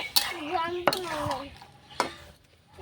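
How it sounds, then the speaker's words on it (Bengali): Tomatoes being stirred as they boil in a pot for a tomato chutney, with a few sharp utensil scrapes and knocks against the pot over a low bubbling background. "দেখুন এখনো সিদ্ধ হয়নি, আমি একটু নাড়া দিয়ে দিচ্ছি।"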